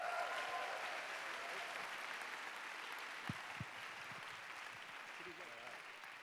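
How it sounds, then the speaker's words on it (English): An audience at a live Ignite Seattle talk event applauds steadily to welcome a speaker. The dense, even clapping fills the whole stretch and fades slightly toward the end. "Charlie Corridor, please give him a round of applause"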